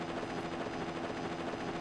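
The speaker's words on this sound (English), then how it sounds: "We've got an helicopter." A helicopter in the Mega Man Zero video game gives a steady, continuous rotor whir and hum, loud and unbroken, with no talking.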